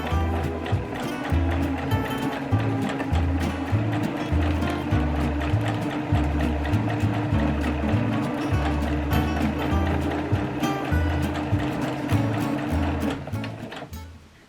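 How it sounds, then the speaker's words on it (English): A sewing machine stitches the inside leg seams of pink flared trousers, its motor running as a steady, loud, continuous whir for about fourteen seconds before easing off at the very end. "the next step is to sew the inside legs, so sew the back sections to the front sections"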